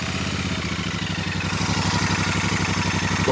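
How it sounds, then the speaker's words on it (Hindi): A Royal Enfield Super Meteor 650 motorcycle engine idles steadily up close, a loud, even low-pitched thrum with a rapid regular pulse and light mechanical clatter throughout. "तो आइडल कंडीशन में कुछ इस तरीके से गुफ्तगू करती है मोटरसाइकिल आपसे।"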